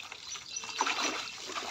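Mountain water flowing from a household tap, a soft steady trickle and splash that swells slightly midway, heard close with no speech over it.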